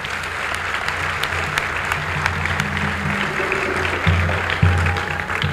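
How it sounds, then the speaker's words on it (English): An audience at Howard University gives a lecture's speakers a steady, full round of applause that goes on for several seconds. Low hums and faint voices run underneath, and there is a short swell near the end. "Let's give them a round of applause."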